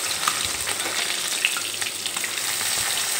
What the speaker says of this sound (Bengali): এখন অপেক্ষা করব এই মাছের এক সাইড ভাজা হওয়া পর্যন্ত